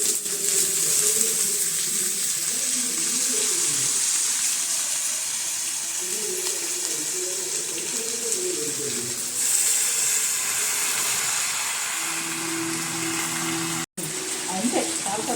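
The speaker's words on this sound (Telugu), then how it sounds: "ఇప్పుడు పాలకూర వేస్తున్నాను." Spinach goes into a pan of frying onions, and a loud, steady sizzle and hiss runs throughout while people talk over it.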